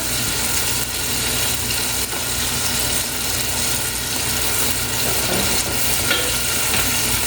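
Blended green spices fry in a pot for a Cameroonian dish, with a continuous loud sizzle and repeated scraping of a spoon stirring through the paste, steady and close throughout, no talking.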